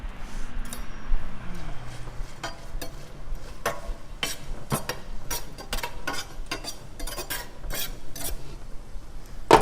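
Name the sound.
tomatoes popping in a pan over high heat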